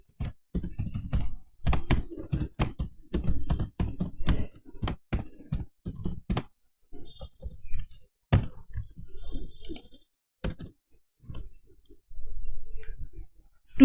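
Rapid typing of JavaScript code on a computer keyboard, close and crisp, with dense bursts of keystrokes for about six seconds and then sparser clicks and short pauses, no talking.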